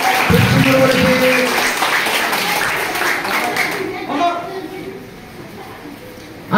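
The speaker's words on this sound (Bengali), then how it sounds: "হাততালি মারো।" Schoolchildren at a primary school celebration burst into a dense round of applause, loud and close at first, then thinning out into scattered claps that fade away.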